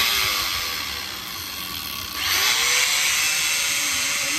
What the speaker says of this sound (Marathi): पॉलिशिंग मी आता याच्यावरती आपला जो प्लायवूडचा तुकडा आहे त्या प्लायवूडच्या तुकड्यावरती पॉलिशिंग करणार आहोत